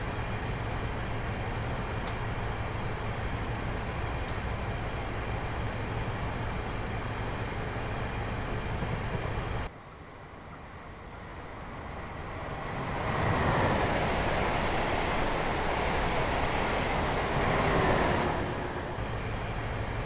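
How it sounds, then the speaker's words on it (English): An HST passenger train coasting down a gradient in Train Simulator 2017, a steady low rumble of wheels on rail that drops briefly and then swells into a louder rushing roar, as if entering a tunnel. "I'm just going to allow the train to continue to coast along here due to the downward gradient coming up"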